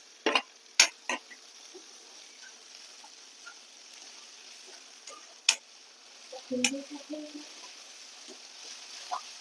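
Crushed hot green chillies and finely chopped tomato being sautéed in a pan give a light, steady sizzle, broken by sharp clicks and scrapes of a stirring spoon and a brief clatter near the middle.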